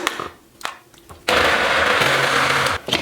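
Electric food chopper mincing raw chicken with chili, onion and garlic, a few short pulses followed by a loud steady whirring run that stops abruptly near the end.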